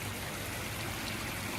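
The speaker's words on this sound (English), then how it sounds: "Check out this waterfall." Water spills down a waterfall in a newly built ecosystem pond, a steady, even broadband rush that stays close and constant with no voices over it.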